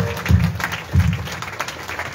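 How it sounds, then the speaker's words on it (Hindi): Church congregation at a Sunday Holy Communion service giving loud applause: a mass of clapping hands with a couple of heavier low thumps, steady throughout and without clear speech. "एक जोरदार ताली परमेश्वर के लिए"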